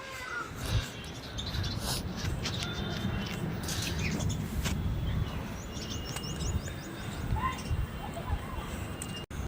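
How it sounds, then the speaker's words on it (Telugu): Sparrows chirp noisily in a garden near brinjal plants, with bright scattered tweets over a steady low background murmur while a voice speaks. "ఒకటే గోల చేస్తున్నాయి అనమాట మన పిచ్చుకలు"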